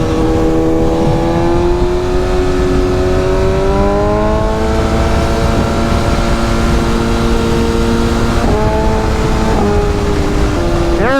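A motorcycle engine runs in cold weather, a loud, steady droning hum with a slight rise and fall in pitch, continuous throughout with no talk over it.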